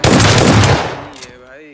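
A shotgun fires once in a video game, a loud, close blast that rings out and decays over about a second.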